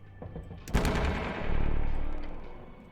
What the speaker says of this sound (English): Deep booming sound echoes through the roller mill.